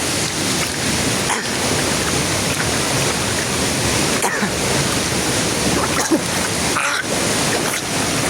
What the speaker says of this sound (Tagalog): medyo malakas ang agos ng tubig